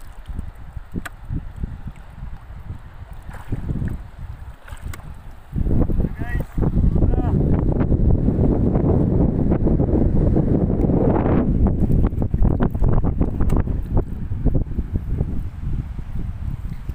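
Steady wind buffeting the microphone, loud and rumbling throughout, with faint rustling underneath.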